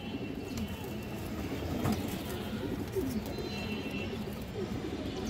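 Pigeons coo softly in a loft, low throaty calls repeating now and then over a steady background hum.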